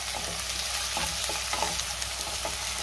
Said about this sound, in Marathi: आता आपल्याला त्यामध्ये टोमॅटो घालायचे आणि टोमॅटो सुद्धा मी 1 मिनिटभर चांगला परतून घेणार आहे